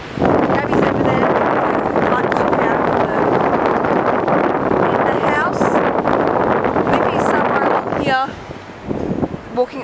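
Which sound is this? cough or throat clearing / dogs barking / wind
wind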